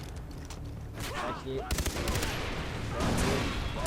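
Explosions and gunfire in the video game Far Cry 3 burst loudly and repeatedly, forming a dense, chaotic barrage with someone speaking briefly over the blasts.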